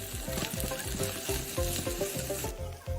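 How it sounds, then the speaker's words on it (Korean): Green onions sizzle with chicken pieces in a hot frying pan, a steady crackling fry with popping bursts and a light clatter throughout, no voices. "대파 한 줌을 넣고 구워주세요."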